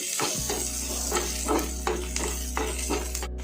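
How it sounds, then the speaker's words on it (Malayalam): Onions sauté in a pan, making a continuous sizzle under a low steady hum, with a few soft stirring scrapes spaced about half a second apart. "സവാള ഇപ്പോൾ നന്നായി വഴറ്റിയിട്ടുണ്ട്."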